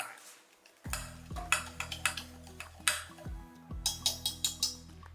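Flour batter whisked in a bowl for instant idli, heard as a steady run of sharp metallic clinks and taps of the whisk against the bowl, close and fairly loud, with no talking.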